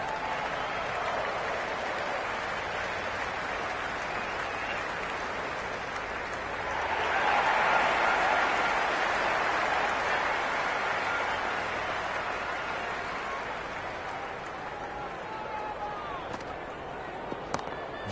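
A stadium crowd at an India versus South Africa T20 cricket match roars after a boundary four, a broad swell of cheering and applause that peaks briefly then settles under continuing crowd noise.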